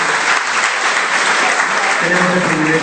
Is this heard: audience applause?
yes